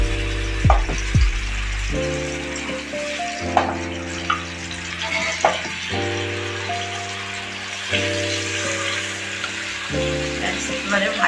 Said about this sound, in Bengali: মাছগুলো ভাজার জন্য দিচ্ছি।